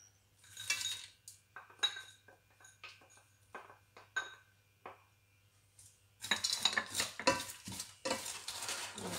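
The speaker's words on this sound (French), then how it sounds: "je mélange bien l'ensemble. Ça s'imprègne de l'huile d'olive" A spoon stirs green beans and broad beans in olive oil in a pot, giving scraping and clinking strokes with a faint sizzle, first in sparse scrapes, then in a busier, louder stretch of stirring toward the end.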